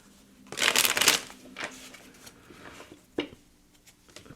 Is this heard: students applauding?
no